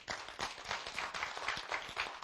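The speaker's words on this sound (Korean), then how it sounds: "박수 좀 쳐요, 몰라도." An audience at a Korean storytelling lecture claps for a teacher seated among them, a short, quiet patter of several hands with an uneven rhythm that continues steadily through the moment.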